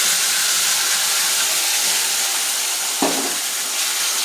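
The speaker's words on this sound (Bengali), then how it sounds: "এর মধ্যে মশলার মধ্যে রয়েছিল পেঁয়াজ বাটা, রসুন বাটা, লঙ্কা বাটা, জিরে বাটা দিয়ে ভালো করে কষিয়ে নিচ্ছি।" A ground spice paste of onion, garlic, chili and cumin, with salt and turmeric, hisses and sizzles continuously in a hot pan, loud and close, with a single sharp knock partway through and no talking.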